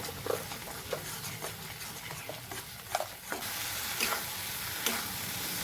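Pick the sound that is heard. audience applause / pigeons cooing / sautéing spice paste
sautéing spice paste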